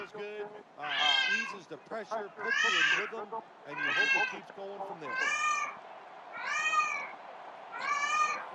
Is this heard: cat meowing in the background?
yes